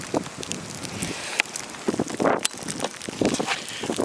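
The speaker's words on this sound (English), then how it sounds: "Winds are actually starting to pick up." Wind gusting during a winter storm, blowing snow in a rough, rushing roar with crackling buffets against the microphone, continuous and close.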